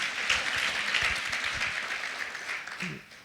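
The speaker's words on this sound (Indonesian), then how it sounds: "Berikan tepuk tangan nih buat Tuhan Yesus." Applause from a church congregation at an LGF Pluit service, a steady crowd clapping that fills the room throughout, with some speech-like murmur mixed in.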